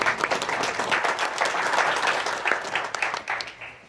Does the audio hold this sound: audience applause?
yes